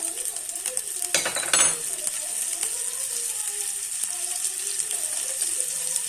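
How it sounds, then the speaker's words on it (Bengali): Spice paste of fennel, green chilli and ginger with a splash of water frying in a pan for green peas paratha, a soft bubbling sizzle with a brief scraping clatter near the start. "ধনে, জিরে, একটু শুকনো লঙ্কা আর একটু পানি দিয়ে আমি মশলাটাকে কষে নেব।"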